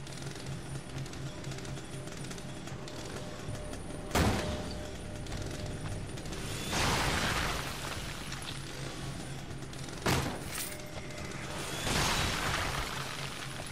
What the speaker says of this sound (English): I gotta say, this chainsaw is pretty powerful.